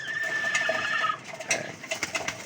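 Racing pigeons coo softly and repeatedly close by during an afternoon feeding, with low murmuring calls and light scuffling at the end.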